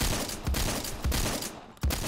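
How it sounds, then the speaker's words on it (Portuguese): Burst of gunfire from a shotgun in the Roblox game Phantom Forces, with sharp repeated shots at roughly half-second intervals over steady game noise, loud and close. "Caraca, muito tiro errado."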